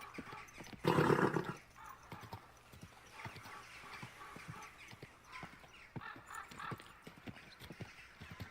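A horse in a medieval video game neighs loudly near the start, then its hooves clip-clop in a steady walking rhythm close by, with faint voices in the background.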